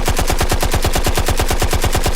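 Rapid gunfire rattles off in a fast, unbroken burst of shots, loud and close, with no pause between them.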